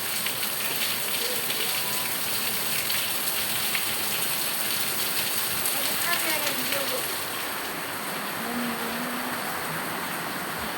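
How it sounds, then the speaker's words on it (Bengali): Heavy rain pours down steadily in a dense, close, loud wash of hiss that stays even throughout, with faint voices briefly audible underneath. "এত বৃষ্টি রে, হায়রে বৃষ্টি আর বৃষ্টি।"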